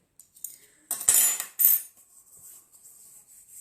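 A trusty metal teaspoon scoops acrylic nail powder from a small lidded pot, giving a few light, close clinks and scrapes in quick bursts with quiet gaps and no voices.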